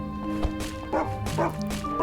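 A dog barking in the game Never Grave: The Witch and The Curse, several short close yips and barks in quick succession over a tonal game music bed.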